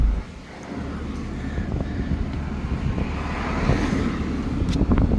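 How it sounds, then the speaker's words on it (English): A passing car on an outdoor road, rising in loudness as it nears, over steady wind buffeting the microphone, with no talk. "Let's let this car go by."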